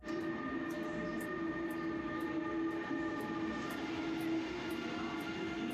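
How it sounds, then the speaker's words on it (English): An Intercity Direct train pulls in with a steady rumbling roll, humming motor tones and a regular clack of wheels over rail joints, close by and continuous. "our tram into the city, our train into the city, I should say"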